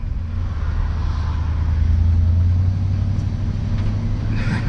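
A 1975 Ford pickup truck with a well-sorted motor runs steadily, a low, even engine rumble with road noise heard from inside the cab, continuous and moderately loud throughout.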